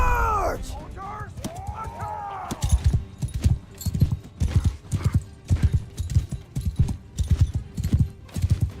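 A horse in Mount & Blade II: Bannerlord gallops in a fast, rhythmic clip-clop of hooves after an opening whinny, loud and close, with a voice briefly audible.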